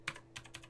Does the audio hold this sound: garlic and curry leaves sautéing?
no